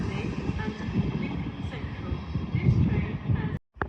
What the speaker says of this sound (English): Departing now are a dual pair of Transpennine Express 185s from Cleethorpes to Liverpool Lime Street